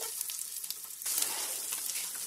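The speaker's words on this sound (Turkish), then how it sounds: "Ve şimdi kızartacağız bunları kaşık kaşık." Spoonfuls of anchovy and cornmeal batter drop into hot oil and fry with a steady crackling sizzle that swells louder partway through, with no one talking.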